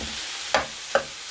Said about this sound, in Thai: คั่วหมูนิดนึง